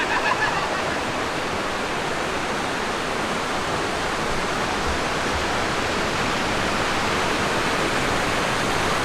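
Spring water pours steadily into a natural pool in central Mexico, a loud, dense, unbroken rush heard close up with no voices.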